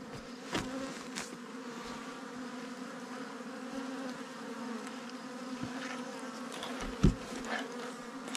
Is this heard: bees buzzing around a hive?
yes